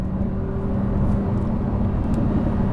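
A 2022 Audi R8 RWD with a V10 engine drives through a tree-lined section, producing a steady, loud, full-bodied engine drone and road rumble that holds without a break throughout.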